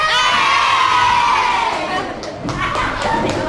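Children in a classroom scream and shout loudly together in a long shrill burst, with thumps and bangs near the end as the excited cheering continues.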